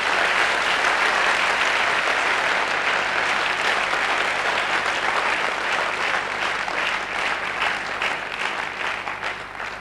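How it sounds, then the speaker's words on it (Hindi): Enthusiastic audience applause at a Hindi-language network marketing seminar, a dense, sustained wash of clapping from a large crowd that stays loud throughout and tapers slightly near the end. "इसके लिए जोरदार तालियां होनी चाहिए"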